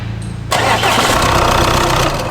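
A VW Passat or Audi A5 engine with engine problems cranks and catches, then settles into a loud, steady running rumble close by.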